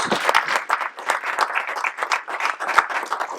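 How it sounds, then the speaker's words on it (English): A warm round of applause from an audience at a conference panel on environmental, social and governance issues, steady dense clapping filling the room for several seconds without talk. "I ask you to give Heather a warm round of applause."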